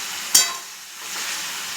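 Chicken coated in a dry-roasted, ground fennel masala fries in a pan with a steady hiss, broken early by a single sharp clink.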